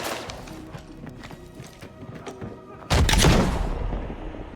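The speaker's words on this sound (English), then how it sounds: "I throw a grenade to suppress the enemy in front and retreat back into the room." Gunfire and a grenade in the tactical shooter Arena Breakout: rapid gunshots and clattering footsteps in the game, then a loud booming explosion that rumbles and slowly fades.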